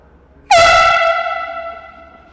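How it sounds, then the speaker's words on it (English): A single loud air horn blast goes off indoors in a library, sharp onset with strong sustained tones ringing on for nearly two seconds before fading, with no talk over it. "I didn't know it was an air horn."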